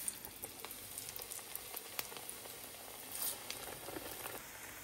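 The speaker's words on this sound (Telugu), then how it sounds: "ఇలా చేసుకున్న గారెల్ని ఆయిల్ వేడైన తర్వాత డీప్ ఫ్రై చేసుకోవాలి." Black-eyed pea vadas deep frying in hot oil, a soft continuous sizzle with fine crackling pops scattered throughout, heard alone with no talking.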